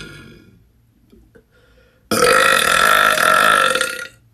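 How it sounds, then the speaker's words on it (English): A woman lets out one long, loud, rasping burp after a near-silent pause, lasting about two seconds before cutting off. "So I'm gonna try to show you how like I do the burp."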